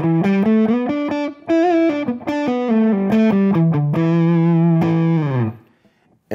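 PRS McCarty 594 electric guitar on the middle pickup position with a clean, warm tone, chords and single notes played in a lively rhythm, loud and close, ending on a ringing chord that fades out.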